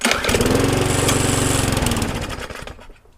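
A trash-picked lawnmower engine with a rebuilt gasket and diaphragm is cranked, chugging in a loud, rapid pulsing burst for about two seconds before winding down and stopping.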